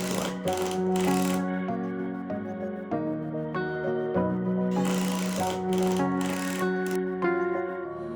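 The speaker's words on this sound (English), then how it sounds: "I continued to reinforce the subfloor by looking for loose screws and replacing them with my longer flooring and decking screws" A power driver runs flooring and decking screws into a subfloor, a steady tonal whine with rapid rattling bursts that pause briefly and restart, close and loud throughout.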